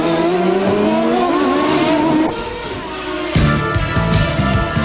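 IndyCar race cars at the 1993 Toyota Grand Prix of Long Beach street race scream past one after another, loud high-revving engines rising and falling in pitch as they pass close by, with a sharp gear-change shift midway.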